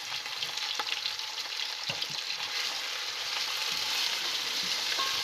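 Minced meat frying with garlic and onion in a hot pan gives a continuous, fairly close sizzle and crackle, with occasional soft stirring scrapes and no voices.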